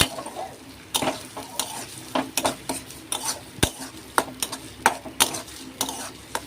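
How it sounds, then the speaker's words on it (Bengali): A spice mix with eggs being stirred and fried in a pan gives repeated close, sharp clinks and scrapes of a utensil against the pan in a quick uneven rhythm over a soft sizzle, without speech. "এবার এটাকে ভালো করে নেড়ে চেড়ে ভালো করে মশলা তৈরি করে নিতে হবে।"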